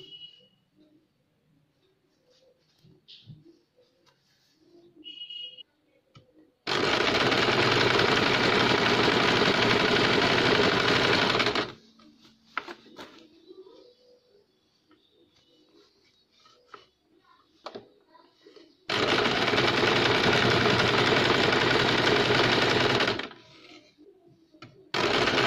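Sewing machine stitching a child's cap, two loud steady bursts of rapid mechanical whirring a few seconds each, separated by quiet handling noises and soft talk.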